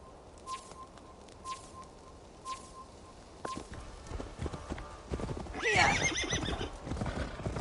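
Horse hooves clip-clopping followed by a loud neigh in the video game Assassin's Creed Valhalla, with faint beeps early on and the whinny rising near the end.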